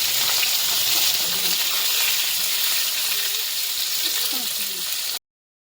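Fish frying in a pan in a home kitchen, a steady broadband sizzle that stays loud and even throughout before cutting off abruptly near the end.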